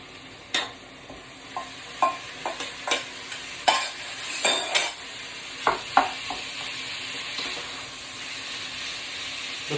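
Fresh meat for lasagne frying in a pan in a home kitchen, a steady sizzle under repeated stirring scrapes and clacks at close range, with no talking.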